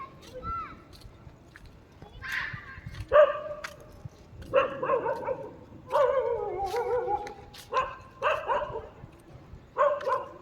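A street dog barks in short repeated bursts at close range, with some yips mixed in, alternating with stretches of someone talking.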